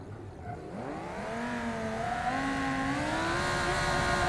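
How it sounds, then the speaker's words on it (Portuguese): A super car in BeamNG.Drive runs at full power on a Hot Wheels-style track, its engine note climbing smoothly and growing louder as it accelerates, with no voices. "Agora eu vou usar todo o motor que esse carro tem."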